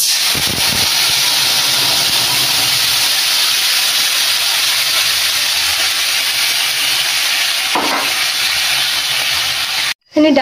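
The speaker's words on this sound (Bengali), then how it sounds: "এখানে ডাল সেদ্ধ করতে দিয়েছিলাম" Dal lentils boiling in a pot, a loud continuous steam hiss close up with small bubbling and clatter, ending in a brief silence.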